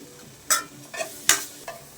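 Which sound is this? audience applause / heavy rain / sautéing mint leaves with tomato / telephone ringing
sautéing mint leaves with tomato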